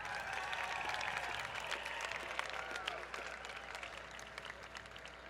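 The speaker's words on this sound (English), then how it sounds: "Give them a round of applause," Graduating class of 2017 at a high school commencement ceremony receiving a round of applause, sustained crowd clapping heard from a distance, easing slightly toward the end.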